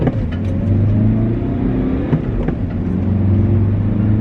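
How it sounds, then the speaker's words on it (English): A tuned BMW pulls out of a junction and accelerates flat out in first gear, a loud, close engine drone rising steadily in pitch over a few seconds with a deep rumble beneath, no voices. "this is going to be the first time literally just flooring it in first"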